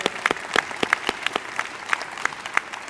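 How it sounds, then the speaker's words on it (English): An audience at a school freshmen transition ceremony claps briefly, a moderate burst of scattered hand claps from a small crowd that is steady for a few seconds. "that's worthy of a hand clap"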